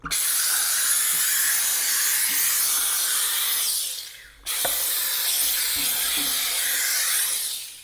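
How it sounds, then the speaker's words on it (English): A Polti Vaporetto steam cleaner blasts steam against a glass window in a loud close hiss that cuts out briefly midway, then resumes just as strong before tapering at the end. "So yeah, you can steam it and then you can squeegee it out."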